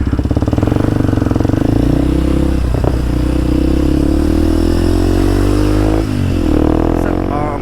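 A Kawasaki KLX 230SM motorcycle engine thrums loud and close while riding, a steady single-cylinder drone that shifts pitch with throttle changes and gear shifts, with wind rumble beneath.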